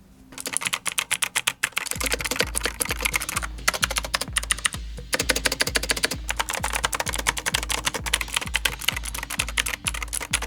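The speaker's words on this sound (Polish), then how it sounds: "Posłuchajcie, jak ta klawiatura brzmi." Rapid, clacky typing on a Razer BlackWidow V3 Pro wireless mechanical keyboard with green switches, dense keystrokes in quick bursts with brief pauses, close and loud, over a low repeating tone.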